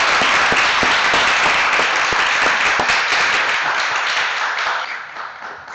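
Audience applause at a school awards ceremony, a dense burst of clapping from a crowd with distinct individual claps near the start, then gradually fading toward the end.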